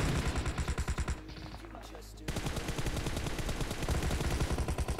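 Gunfire fills a squad match of the mobile battle-royale game PUBG Mobile, with loud rapid bursts of automatic shots, a short lull, then continuous heavy firing again.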